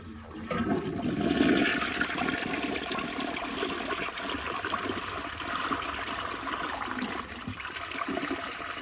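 A Jacuzzi Perfecta toilet flushes with a strong, continuous rush and swirl of water that holds steady for several seconds, close and loud, with no talking.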